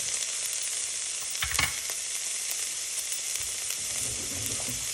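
Onions frying in a pan alongside plantain fritters, a steady crackling sizzle with a burst of spatula stirring and scraping in the middle, no one talking.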